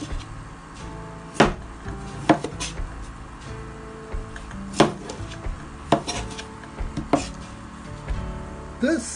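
A big knife chopping tapioca for Kerala curry: irregular, sharp thuds of the blade hitting a cutting board, close and fairly loud, with brief pauses between cuts.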